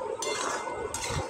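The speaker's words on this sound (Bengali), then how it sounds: "সুন্দর করে মশলাটাকে সবজির মধ্যে মিশিয়ে নিচ্ছি এইভাবে" A utensil scrapes and clinks against a cooking pot while spices are stirred into bottle gourd and fish head curry, the stirring rhythmic and close, with no talking.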